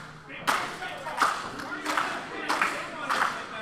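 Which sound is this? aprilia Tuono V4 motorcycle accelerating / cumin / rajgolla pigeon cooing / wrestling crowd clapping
wrestling crowd clapping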